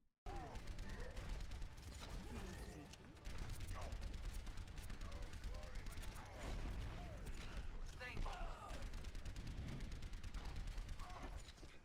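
Soldier 76's rapid gunfire pounds Reinhardt's shield in an Overwatch match on King's Row, a dense, continuous rattle of shots with in-game effects, heard under steady commentary talk.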